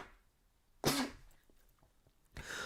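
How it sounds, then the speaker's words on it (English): A single sharp, explosive sneeze bursts out close to the mic, followed by a quiet pause and a second softer, breathy burst. "give me a second to sneeze"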